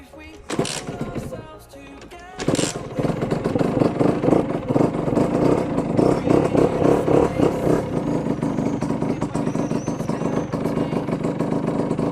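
A cold motorcycle engine catches after a kick start and settles into a loud, steady, buzzing idle close by, following a few sharp knocks and a short stutter of the kick.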